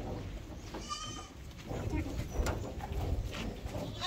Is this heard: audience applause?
no